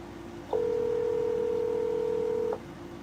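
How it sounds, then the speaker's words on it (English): A phone keypad sends one steady two-tone DTMF dialing beep, held for about two seconds, clear and close over a quiet background hum. "I'm finna call Top Cat"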